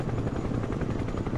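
A helicopter's rotor in the video game Broken Arrow thumps continuously and loudly, a steady pulsing chop filling the whole moment.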